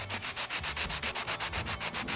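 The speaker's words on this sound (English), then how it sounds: "I'm going to rub the key on this, sanding it back and forth" A metal key is rubbed briskly back and forth on a sanding block to rough it up before painting, giving about fifteen even rasping strokes, close and steady, with no talking.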